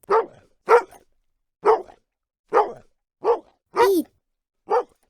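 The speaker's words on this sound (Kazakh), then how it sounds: "Бұл иттің дауысы." A dog barking seven times in short, evenly spaced, close and loud barks with clean silence between them.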